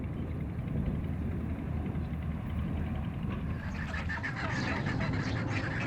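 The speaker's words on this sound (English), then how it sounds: "Many farmers raise ducks" Farm ducks in rural Vietnam quack in a dense, continuous chorus of overlapping calls at moderate distance over background noise, with no one talking.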